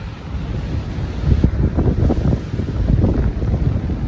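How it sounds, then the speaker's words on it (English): Wind and surf on an empty Oregon beach at Bullards Beach State Park in Bandon, a steady broadband roar of breaking waves with wind buffeting the microphone, building slightly louder midway and holding throughout with no voices. "It's just miles of beach, and I'm the only one out here right now"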